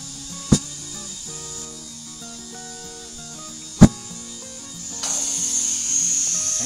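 Compressed air blasts through a valve stem with the core removed to seat the bead of an agricultural tractor tire on its rim: two sharp bangs, then a steady rushing hiss building toward the end.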